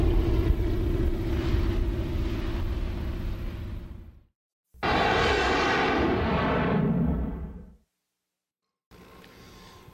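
A banner-towing airplane at Gillespie Airport roars loudly and close, its steady droning engine breaking off abruptly into brief silences between long sustained stretches.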